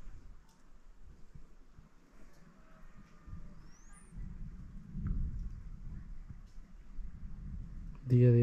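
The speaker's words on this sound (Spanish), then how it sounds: "Día de hoy está tronando un poquito el agua, yo creo que quiere llover" Low thunder rolls in from a distance over open farmland being fenced for planting as rain threatens, with a heavier rumble midway and a sharp loud burst at the very end.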